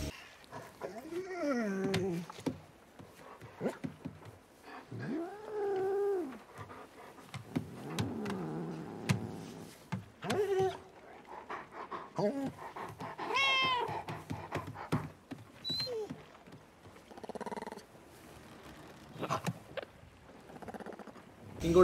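From the animated film Flow, a cat meows repeatedly in rising and falling cries while a dog barks and whines in between, the animal calls coming in irregular bursts with quieter gaps.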